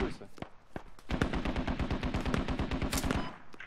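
Gunfire in the video game Squad during close urban fighting: a single shot, then a rapid sustained burst of automatic fire with closely spaced sharp reports, loud and near, with a voice faintly underneath.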